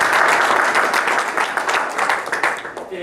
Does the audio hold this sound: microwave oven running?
no